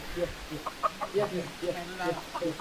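Hens in a farmyard flock cluck in quick, uneven bursts nearby, with several birds overlapping and people talking at times.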